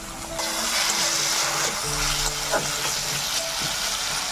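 Ginger, garlic and green chilli paste hits hot oil with fried tomato for a crab curry, giving a loud, continuous sizzle with a few stirring scrapes and no talking.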